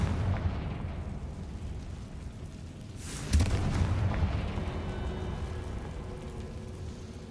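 A Confringo blasting spell goes off in Hogwarts Legacy as one sudden loud burst partway through, set against a dense, steady game-world rumble that lingers afterward.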